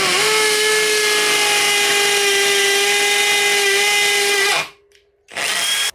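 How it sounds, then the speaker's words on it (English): A power drill whines steadily as it pre-drills into timber, a sustained high pitch that stops abruptly near the end, followed by a brief silence and then a short restart. "we can pre-drill this area here"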